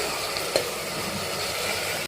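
Vegetables with chilli powder, turmeric, sambar masala and chopped coriander sautéed and stirred in oil for homemade sambar, giving a steady close sizzle with a brief scrape of the spoon.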